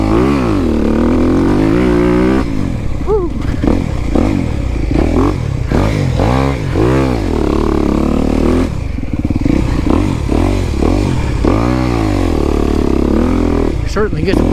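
Dirt motorcycle on a goat ranch trail, engine revving with rising and falling pitch sweeps as it gets a little gas to roll down a jump, loud and close, with clattering and scraping from the ride.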